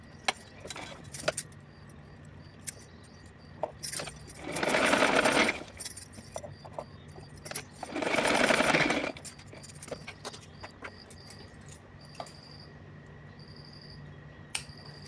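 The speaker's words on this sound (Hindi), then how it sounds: "तो चलिए सिलाई लगा करके दिखाती हूँ आपको।" An electric sewing machine stitches a folded fabric strip for a small summer outfit for a Kanha ji idol, running in two steady whirring bursts of about a second each, close and loud against a quiet room.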